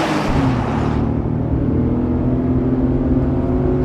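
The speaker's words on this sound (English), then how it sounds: "You can hear the engine, there's a nice deep groan you can hear," Inside the cabin of a Chevrolet Colorado ZR2 pickup with a 3.6-liter V6, the engine holds a steady, deep drone, loud and continuous, with a brief whooshing swell at the start and no talking.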